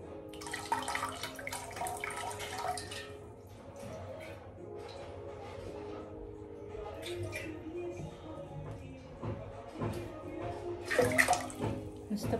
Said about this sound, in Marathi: आता मी फक्त हे पाणी घेणार आहे आणि या ताम्हणावर असं टाकते